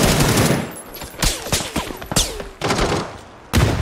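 Loud bursts of gunfire and heavy cannon shots from a team shooter video game crack out in rapid clusters, separated by brief gaps.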